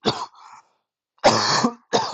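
Harsh coughing, close to the mic, in three bursts separated by brief pauses.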